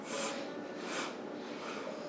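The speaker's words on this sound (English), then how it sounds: "Let's do the 3 sniffs." Three quick nasal sniffs during a yoga breathing exercise, soft airy inhalations spaced evenly and close by, faint and alone.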